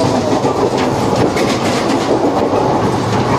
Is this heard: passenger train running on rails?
yes